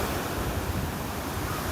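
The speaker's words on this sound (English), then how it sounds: "The wind and the waves" Surf breaking and rolling on a beach in North Naples, Florida, on a Saturday morning walk, with steady wind buffeting the microphone; a continuous close wash of waves and gusts, with no voices.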